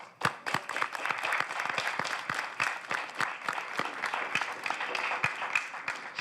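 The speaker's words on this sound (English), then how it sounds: "I think we owe you a round of applause." An audience at an eighth grade moving-on ceremony gives a round of applause, many distinct hand claps ringing out in a lively, uneven patter at moderate distance, steady across the whole stretch.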